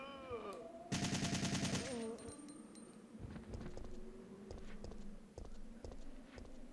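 Rapid bursts of gunfire in Resident Evil 3, one dense loud volley near the start followed by scattered single shots and clicks, with game music and effects underneath.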